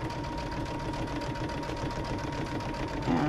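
Sewing machine running a decorative stitch along the outside of a tote bag seam, a continuous steady buzzing hum for a few seconds, close and even, with no talk.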